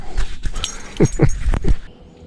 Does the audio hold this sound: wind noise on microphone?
no